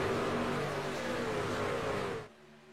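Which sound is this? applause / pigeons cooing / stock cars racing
stock cars racing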